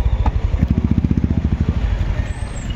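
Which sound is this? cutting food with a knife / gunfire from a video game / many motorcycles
many motorcycles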